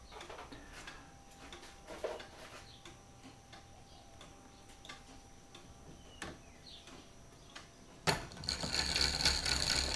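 A mechanical calendar orrery ticks and ratchets as a cam-driven arm picks up a pin and advances the date by one day. Soft, irregular clicks run throughout, then a louder burst of mechanical rattling arrives near the end.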